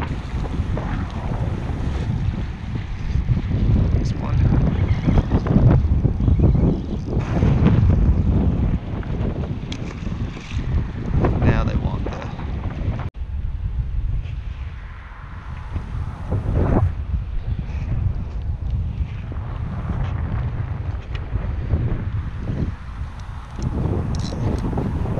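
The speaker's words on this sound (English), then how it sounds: "It's the lightest wind in Florida right now, at least south central Florida, in this zone." Strong, steady wind roars across open water in south central Florida during a canoe fishing trip near a bridge. The gusty buffeting runs continuously, with faint water wash beneath it.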